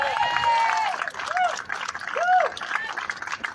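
Rally crowd at Athens Park claps steadily in a dense wash of hands, with rising whistles and cheers cutting through the noise.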